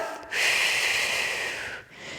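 A single long, breathy exhale through the mouth during a core bracing breathing exercise for pregnancy weightlifting, close and steady for over a second before tapering off, with no speech.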